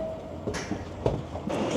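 A train arrives at Chamartín station in Madrid, heard from inside as a quiet rolling rumble with a few soft clunks and rattles spaced through the short stretch.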